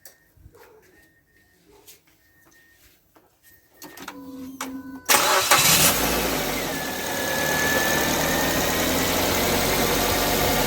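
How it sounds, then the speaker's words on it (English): A few scattered clicks and a cranking whir, then a Mazda 2 (Demio) engine cold-starts loudly after fuel injector seal replacement and settles into a steady, slightly rough idle. "let me start the engine"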